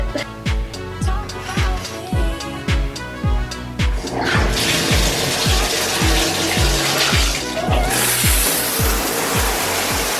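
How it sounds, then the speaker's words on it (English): Music with a thumping beat plays loudly from LED speaker bulbs in a shower, then a rush of running shower water joins in and continues underneath it. "I'm gonna just take a shower and wash my hair."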